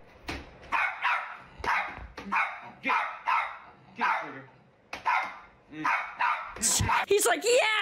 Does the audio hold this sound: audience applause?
no